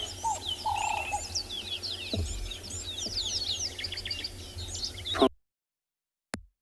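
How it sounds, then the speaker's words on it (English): Dense outdoor birdsong at sunrise: many grey-headed sparrows and finches chirping and calling at once in overlapping high tweets, steady and fairly close, ending abruptly with one faint call after. "some sparrow, some grey-headed sparrows as well"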